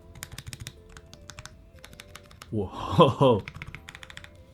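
Key presses clatter from a Bakeneko65 mechanical keyboard, crisp and close in quick runs, with a brief exclaimed voice interrupting midway before the typing resumes.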